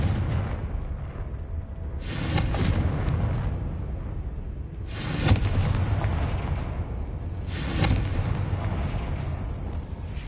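Three booming blasts from the Confringo fire spell in Hogwarts Legacy come a few seconds apart, each a loud burst that rumbles on and trails off, over a steady game background.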